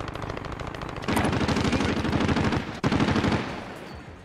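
Rapid automatic gunfire in the Warzone Rebirth Island battle royale, dense bursts of shots that swell louder after the first second, break off briefly near the end, then resume before easing.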